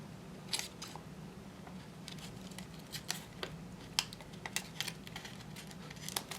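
Scissors snipping a paper number 9 out of a sheet while making artist trading coins: a run of quick, crisp, close cuts in irregular bursts, fairly quiet, with no talking.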